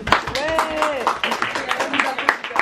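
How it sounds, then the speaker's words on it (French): A small group applauds a magazine team with brisk, uneven clapping, while voices talk and call out over the claps throughout. "Je pense qu'on peut les applaudir."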